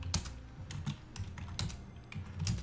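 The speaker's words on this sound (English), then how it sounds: "We have working keyboard." Typing on a computer keyboard while exploring early OS/2 and Windows NT, with quick, uneven clusters of sharp clicks close up and fairly quiet, with no talk.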